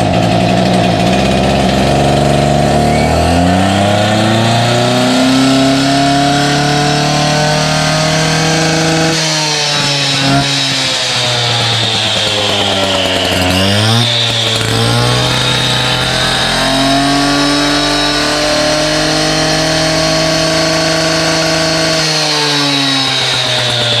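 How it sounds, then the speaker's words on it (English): A Stihl TS400 gas cut-off saw runs on choke, loud and close, with a continuous two-stroke drone whose revs dip and rise unevenly midway before settling again. "Put it on choke and just let it run for a bit"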